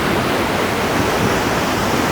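Cold river water near Grahan village in Kasol rushes in a steady, broadband roar that stays close and even for the whole stretch, with no voices.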